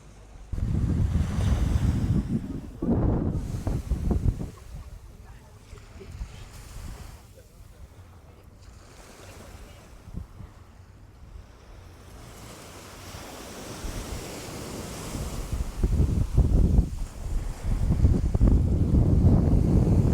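Sea waves wash onto a beach on Sal, Cape Verde, with steady wind buffeting the microphone; the surf swells and recedes in broad, rolling surges, growing louder toward the end, while a voice speaks briefly.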